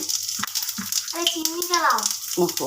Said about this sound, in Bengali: অল্প তেল দিয়ে দিলাম এবার দিয়ে দেবো একটু গোটা জিরে